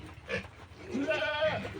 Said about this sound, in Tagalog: Pati na rin itong mga kambing na to.